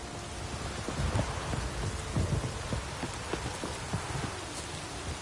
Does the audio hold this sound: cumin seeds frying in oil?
no